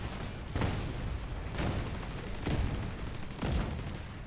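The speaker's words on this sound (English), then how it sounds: "What's all those explosions?" Explosions and gunfire in the video game The Division 2: heavy blasts thud at roughly one-second intervals over a dense, constant roar of battle, with no voices.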